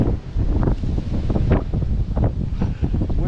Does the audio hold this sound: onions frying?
no